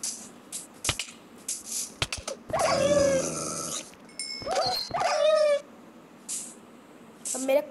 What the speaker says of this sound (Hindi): अब मेरा कुत्ता अपना वाला ये रहा